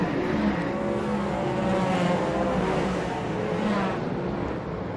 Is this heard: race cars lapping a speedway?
yes